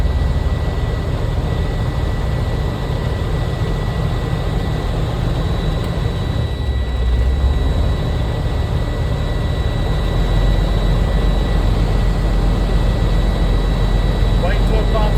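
A truck engine is revved to build air brake pressure, a loud steady low rumble heard from inside the cab that holds constant throughout with only a brief dip midway.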